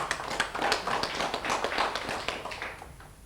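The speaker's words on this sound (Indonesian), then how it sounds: "Tepuk tangan dulu buat Tomang." Audience applause honoring Tomang during a talk, a dense burst of many hands clapping for about three seconds that tapers off at the end.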